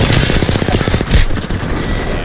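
Apex Legends gunfire plays as loud, rapid automatic bursts, fired in quick rattling volleys over about two seconds.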